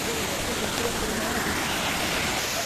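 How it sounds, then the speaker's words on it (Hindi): A fast-flowing waterfall pours from above, a steady, loud, broadband rush of falling water that fills the whole stretch without a break. "ऊपर से पानी गिर रहा है, बहुत ही स्पीड में आ रहा है पानी"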